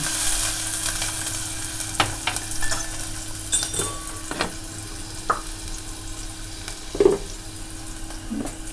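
Onion and garlic sautéing in hot oil in a pan for a Konkani dried-fish curry, a soft continuous sizzle with occasional stirring clinks and scrapes of a utensil, fairly quiet and without speech.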